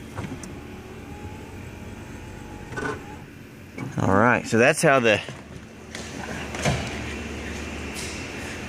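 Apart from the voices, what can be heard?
closing the doors of a 1988 Ford Econoline van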